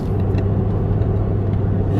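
Steady interior road rumble of a car being driven, a continuous low engine and tyre drone holding an even level throughout with no talk over it.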